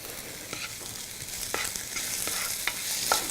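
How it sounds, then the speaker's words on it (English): Ginger and garlic fry in a pan while being stirred for a Moroccan vegetable dish, giving a soft, steady sizzle broken by faint scraping taps of the utensil. "So I'm going to go ahead and put a good tablespoon of ginger and a tablespoon of garlic. And I'm going to give it a good stir."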